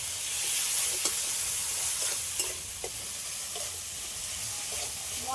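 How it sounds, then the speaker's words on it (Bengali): Ground spice paste with turmeric frying in a pan, a soft continuous sizzle with hissing steam and repeated scraping strokes of a spatula stirring, close and fairly quiet. "বেটে রাখা মশলা সবগুলো একসাথে ভালো করে একটু কষিয়ে নিই"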